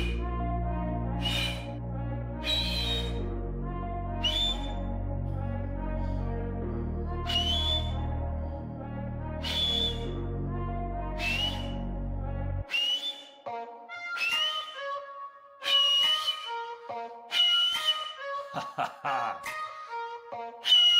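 Loud, piercing finger whistles blown in a series of sharp, separate blasts, some rising and falling in pitch, with a low rumble under the first half and clear quiet gaps later.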